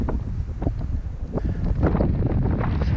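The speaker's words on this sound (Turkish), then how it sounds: "Fakat daha acayip rüzgarlı" Strong mountain wind buffets the microphone in loud, gusty bursts, a constant roaring rush with heavy low rumble.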